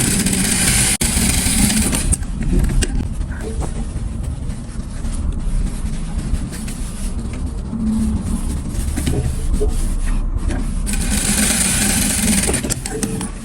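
A sewing machine stitches the hem of a denim skirt with a loud, continuous motor whir and rattle, close up, briefly easing around two points before running on.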